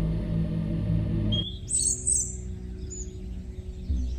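Birds chirp outdoors with a few bright, brief calls, set against a low steady background hum that drops away partway through.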